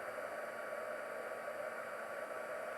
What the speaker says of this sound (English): So again, if you've got a heat tool, they're not hair dryers. They're a lot hotter than a hair dryer.